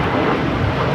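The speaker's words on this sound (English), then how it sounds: "This is JetBlue Airways taking off to Fort Lauderdale, flight 700 on an A321." A JetBlue Airways Airbus A321 takes off from LAX, its engines a loud, dense, broadband roar that holds steady throughout the brief moment.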